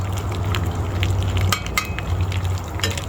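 Dried salted fish (tuyo) frying in oil, a steady close sizzle with crackling pops running without pause for a few seconds, no voices over it.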